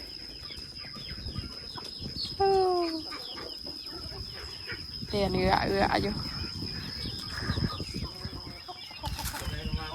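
Chickens cluck and call on a farm, a few bird calls rising over a steady background hum, with people talking nearby throughout.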